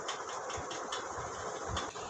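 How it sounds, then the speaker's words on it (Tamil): A 2002 Maruti Suzuki Wagon R engine idles smoothly in good condition, a quiet steady hum with a soft, regular pulsing tick, heard close and alone. "நல்லா ஸ்மூத்தாக இருக்குதுங்க இன்ஜினு."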